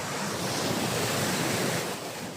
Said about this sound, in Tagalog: Ito pa, laki oh.